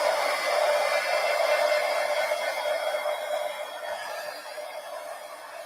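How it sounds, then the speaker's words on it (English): A heat gun blows a steady, fairly loud whirring stream of hot air over drying collage art cards, holding constant and easing off slightly toward the end, with no talking. "let me hit them with the heat gun real quick"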